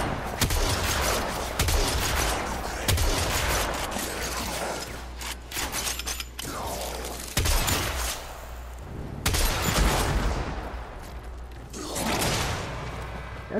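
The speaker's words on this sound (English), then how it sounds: "it's a pretty powerful shotgun" Shotgun blasts in the video game Warframe: about seven loud, heavy shots in uneven succession, each with a sharp crack and a rumbling, decaying tail, with mechanical clicks between some of them.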